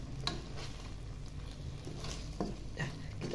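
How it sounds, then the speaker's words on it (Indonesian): Spices are sautéed with pineapple and coconut milk in a pan, giving a faint, steady sizzle with a few soft stirring scrapes and light clinks of a utensil. "Kita tumis dulu sampai matang."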